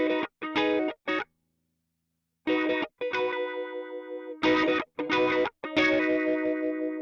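Electric guitar played through a built-in multi-effects processor with auto wah, short bursts of distorted, effected notes and chords separated by brief silences, with one sustained ringing chord in the middle.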